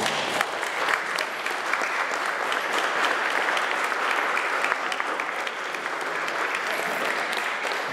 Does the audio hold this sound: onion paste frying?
no